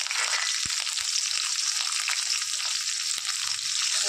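Ginger and green chillies frying in hot oil for an okra pickle, a steady close sizzle that never lets up, with a few faint clicks of a utensil and no voices.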